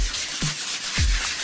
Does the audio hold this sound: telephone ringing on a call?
no